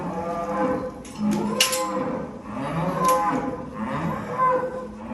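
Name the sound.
cows mooing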